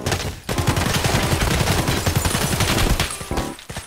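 Rapid gunfire in the video game Escape from Tarkov: dense, loud bursts of shots fired back to back for several seconds, then a short pause and a final few rounds.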